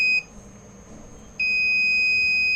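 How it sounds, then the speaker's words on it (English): A load manager's alarm signals a low-voltage fault with a short electronic beep, a pause, then a steady high-pitched tone that holds to the end, loud and close with no voices. "It will keep beeping like this until the fault clears."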